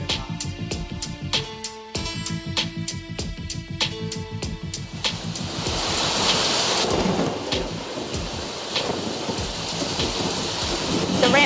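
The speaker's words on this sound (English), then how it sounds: "The rain effect, awesome effect." Rain pours steadily in a heavy downpour, with thunder rumbling and cracking through it; a rhythmic beat of sharp repeated hits runs through the first half before the rain swells into a dense, continuous hiss.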